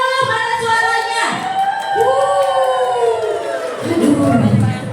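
Crowd in the host town of Pringsewu cheering and shouting back at a presenter at a company event, a loud mix of many voices that swells and sustains for a few seconds, with an amplified voice over it.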